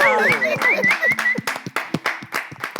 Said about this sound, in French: Applaudissez pour moi.